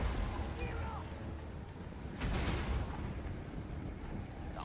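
Hammer of Gork artillery firing in Total War: Warhammer, a deep, rumbling boom rising out of a dense wash of steady battle noise, one shot clearly standing out around the middle with soft voices in the mix.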